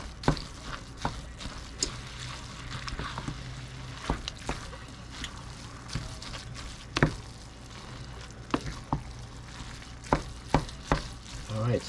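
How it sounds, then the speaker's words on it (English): Noodles sizzle in a pan with soy sauce and oyster sauce while being stirred, a close crackling hiss punctuated by frequent sharp knocks and scrapes of the utensil at uneven intervals. "I'm adding a mixture of soy sauce and oyster sauce. Let's get that stirred up."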